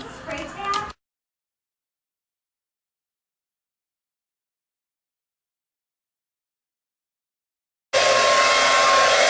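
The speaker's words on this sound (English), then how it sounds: "I'm gonna start blow drying and then I'll hit you back" A handheld hair dryer blowing on ruby red Brazilian hair extensions switches on loudly near the end as a steady, roaring broadband whoosh, following a brief moment of talk and a long silence.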